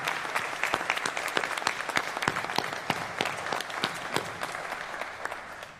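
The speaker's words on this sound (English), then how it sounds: "I'd ask everybody to give him a round of applause" An audience gives a round of applause at a fire and rescue service nomination event, steady moderate clapping with distinct individual claps popping out, sustained for several seconds at a fairly soft level.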